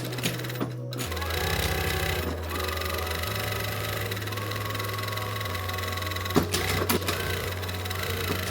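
A sewing machine stitches the second side of bias tape on a Vivienne Westwood-style corset top, running in a steady close whir with pitch shifts as the speed changes and a couple of brief pauses.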